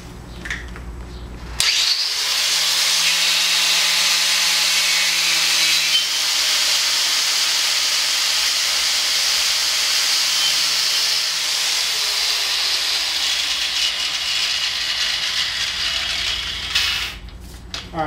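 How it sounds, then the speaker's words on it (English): A power grinder takes the surface of a brake drum or caliper down to bare silver metal, giving a loud, sustained hissing whine that starts suddenly and keeps going for the full run. "you're gonna grind it to it's kind of silver, but don't grind it too far down, because you can screw up the drum or caliper"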